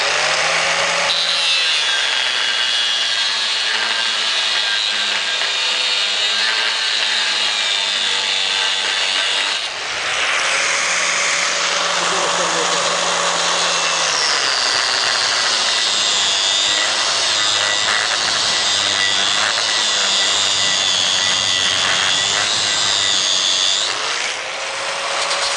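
An angle grinder disc cuts into metal, whining loudly and steadily with a bright, rasping edge, briefly dipping around the middle before resuming its continuous high-pitched grind up close.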